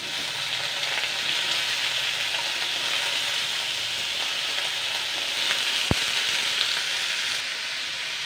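Green peas and yam bean fry in ghee in a wok, a soft, continuous sizzle and hiss at moderate level, broken once by a brief sharp clink of a utensil.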